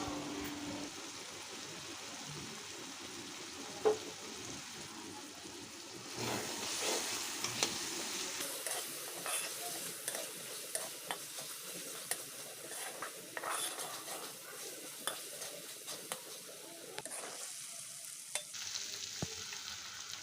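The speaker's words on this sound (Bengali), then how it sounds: "পরিষ্কার করে রাখা লোটটা শুটকি আমি দিয়ে দিব আর ভালো করে দু মিনিটের মতো ভাজবো তেলের মধ্যে" Soft frying sizzle of dried fish in oil with scattered clicks and scrapes of a utensil stirring in a pan, quiet and close, no voices.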